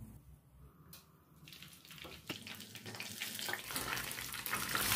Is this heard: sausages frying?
yes